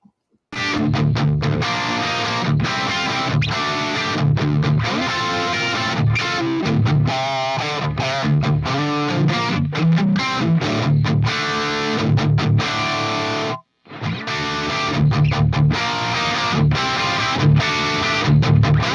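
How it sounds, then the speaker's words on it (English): Electric guitar through a Friedman amp with the master volume turned down plays thick distorted chords and riffs, loud and close, with a brief break near the end before resuming; no voices. "what you heard there was the Friedman amp, all the controls set the same, except it's got a master volume, and the master volume's turned down"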